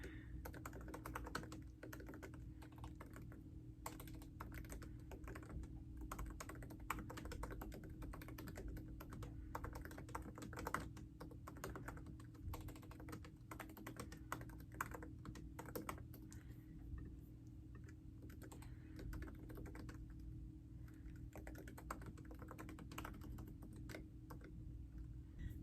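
Steady close typing on a computer keyboard, with rapid irregular key clicks running continuously over a low hum.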